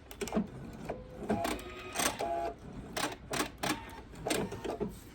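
A sewing machine chain pieces fabric bowl cozies, running in short, fast mechanical bursts separated by brief pauses, close and fairly quiet, with no talking.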